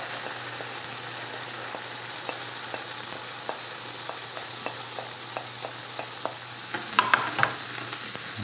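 Onions dropped into hot flavoured oil fry with a steady, bright sizzle, dotted by small crackles and pops, with a brief burst of louder spitting near the end; nobody speaks.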